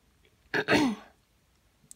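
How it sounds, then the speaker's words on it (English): One close, loud throat clearing, a short rough burst lasting about half a second, then quiet. "sorry if I keep clearing my throat"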